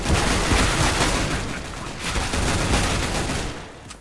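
A CZ75 pistol in CS:GO fires on full automatic in a loud, dense, rapid burst of shots that runs almost without pause before tapering off at the end.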